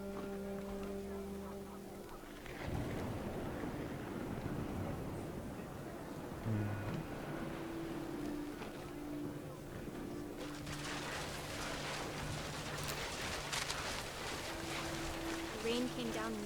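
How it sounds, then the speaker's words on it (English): A heavy rain and wind storm in the video game What Remains of Edith Finch: a steady broadband rush of downpour and gusts continues throughout, with game music tones and occasional louder bursts layered over it. "The rain came down in buckets then,"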